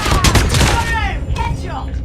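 Rapid bursts of LCAR-9 gunfire in the mobile shooter Call of Duty Mobile, loud and close, a quick fusillade in the first half trailing into game voices and effects.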